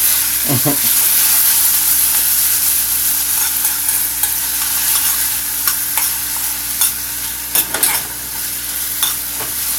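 Okra and onions sautéing in a pan for a breakfast of sardines and okra, giving a steady, close sizzle with the scrape of stirring and a few sharp clinks of the utensil against the pan.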